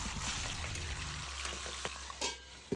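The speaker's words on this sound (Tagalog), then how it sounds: "lagay tayo ng gear oil, at nung uminit, hulog na natin tong mga bangus" Milkfish (bangus) frying in hot gear oil on a stove, a steady close crackling sizzle with a low rumble running throughout and a few sharper pops near the end.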